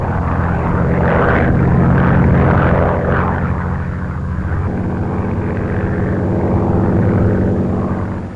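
Propeller-driven bombers and interceptor aircraft of the 1942 era drone overhead, a loud, steady, rumbling engine roar that eases briefly midway and then builds again, with no voices.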